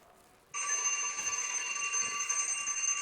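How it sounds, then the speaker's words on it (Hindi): A bright, continuous electric bell rings loudly and steadily, starting abruptly after a moment of quiet and carrying on without pause. "फिर से घंटी बज गई"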